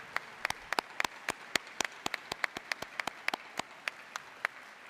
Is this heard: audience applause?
yes